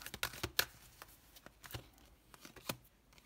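Tarot cards handled and laid down one after another on a table, a string of quiet crisp slaps and shuffling rustles, close and alone with no talking.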